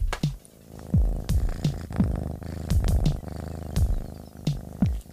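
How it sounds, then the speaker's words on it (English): A house cat purrs loudly and close by, with repeated rumbling bursts and short clicks throughout, no talking. "Listen to how loud this guy purrs."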